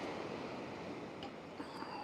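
Powerful ocean waves break against a jetty, heard as a steady rushing surf wash with some wind noise on the microphone, continuous and fairly distant, with no voices.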